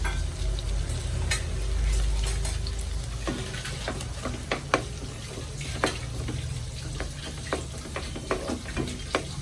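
Shallots frying in a pan for a squid (kanava) roast, a steady low sizzle with scattered sharp crackles and pops throughout, close and alone without talk.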